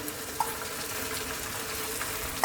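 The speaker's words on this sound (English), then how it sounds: "get your cooked pasta and let's drop this in" Cooked pasta tumbling into a pan of creamy chicken mac and cheese sauce over heat, giving a steady soft sizzle and wet bubbling throughout, with a brief clack near the start and a louder knock at the end.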